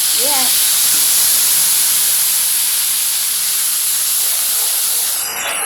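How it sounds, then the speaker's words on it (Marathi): Loud, continuous hiss of spice tempering in hot oil for dal, steady and close throughout, with a brief voice-like sound at the start. "बघा आता फोडणी बघा कशी बसते."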